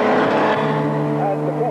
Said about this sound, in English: Round the last corner, and there is Tim Harvey finishing in 3rd place overall.